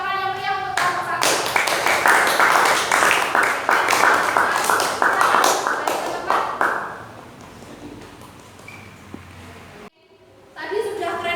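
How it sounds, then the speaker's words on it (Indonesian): A classroom of high school students claps loudly for a student group, a burst of many hands lasting several seconds before fading to quieter room sound and a brief voice at the end. "Kita beri tepuk tangan yang meriah untuk kelompok 1."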